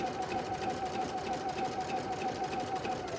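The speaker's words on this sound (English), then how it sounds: "stitching backwards, going up along the side of that fabric strip." A sewing machine stitching backwards along a fabric strip runs steadily and close, a continuous rapid mechanical hum with a fast even needle rhythm throughout, no talk.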